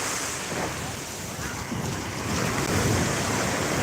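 Surf rolls in at small Lantana Beach, Florida, beside a seawall, with gusting wind buffeting the microphone, a continuous roar that swells slightly louder toward the end.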